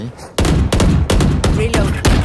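Rapid bursts of automatic gunfire from a Roblox shooter game, several loud back-to-back volleys filling the whole clip with little pause between them.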